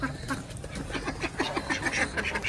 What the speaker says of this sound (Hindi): तो ये हमारी बतखें भी आ चुकी हैं।